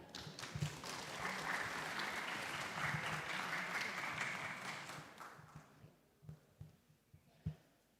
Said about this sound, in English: So ladies and gentlemen, I welcome you to give a round of applause for Professor Dea.